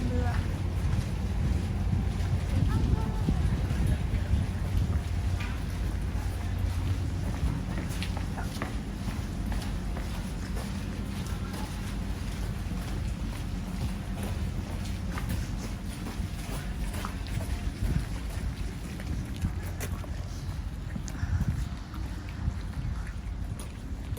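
A boat travels across open water with a steady, continuous engine rumble and rushing water, heavy wind buffeting the microphone throughout and no clear talk.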